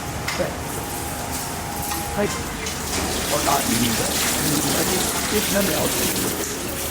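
Water is poured generously over fish in a cooking pot in a Nigerian kitchen, a steady splashing pour running the whole time at moderate loudness, with talk faintly underneath.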